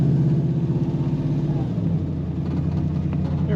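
A 1966 Dodge Coronet Deluxe two-door sedan with a 5.7 Hemi V8 cruising down the road, its deep steady engine rumble and road noise continuous and close throughout.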